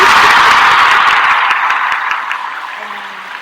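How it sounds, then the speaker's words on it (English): A loud burst of applause from a crowd at a spiritual chakra cleanse gathering, dense clapping that starts strong, then gradually thins and fades toward the end. "I gotta give him a round of applause, y'all."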